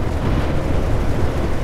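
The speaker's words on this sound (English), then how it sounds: "Oh, you can actually hear the thunder outside." Thunder outside, a steady deep rumble with no breaks, loud and close, with no voices over it.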